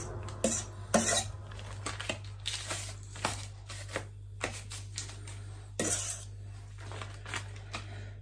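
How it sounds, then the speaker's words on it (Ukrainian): Lazanki pasta with bacon and sausages being stirred in a pan: repeated close metal scrapes and clinks of a utensil against the pan come in an uneven rhythm over a low steady hum. "Перемішуємо все гарно знизу, там, де наш бекон і ковбаски."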